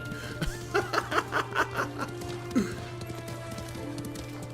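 Horse running in Ghost of Tsushima, a rhythmic run of about seven hoof thumps in quick succession over a steady background hum, then a single later thud.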